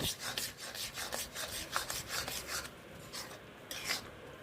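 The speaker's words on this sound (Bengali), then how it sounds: "এবার নারকেল কোড়াটা দিয়ে ভালো করে কিন্তু নাড়িয়ে নিতে হবে" A spatula scrapes and rubs through grated coconut and jaggery in a pan, a steady rasping stir with repeated strokes, close and moderately loud, with no voices.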